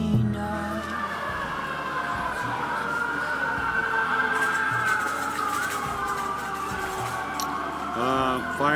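Fire truck and police car sirens wail through a city street, rising and falling over steady traffic rumble, with a voice speaking over them.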